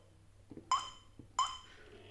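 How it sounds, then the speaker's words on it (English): A GSM alarm's phone keypad gives two short, clear electronic beeps about half a second apart while a number is dialed, with faint soft taps between them. "So right now I'm just dialing a number there."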